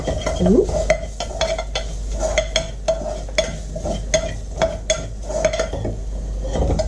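Spices for dal toast in a pot over lowered heat while a utensil stirs, giving repeated sharp scrapes and clinks against the metal over a steady low sizzle, close by, with no speech.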